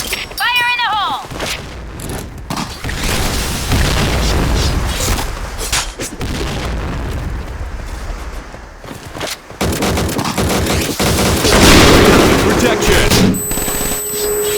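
Grenade blasts and heavy gunfire in the first-person shooter Insurgency: Sandstorm, loud booming explosions mixed with rapid automatic fire throughout, with shouted in-game voice lines and chatter over the combat.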